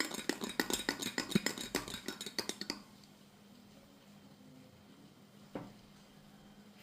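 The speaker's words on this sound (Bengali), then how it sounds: "তো এখানে আমরা একটা বড় চামচ দিয়ে এটাকে একটু নেড়ে দেব।" A large spoon stirs foaming lemon juice and baking soda in a jug, tapping out quick, light clinks for a few seconds before going quiet, with one faint clink near the end.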